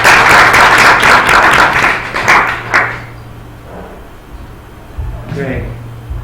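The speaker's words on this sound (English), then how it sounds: "how about a round of applause for Sophia?" Loud, close audience applause at a fast pitch competition, rapid clapping for about three seconds that stops abruptly, followed by a quiet room with a brief voice and a low hum.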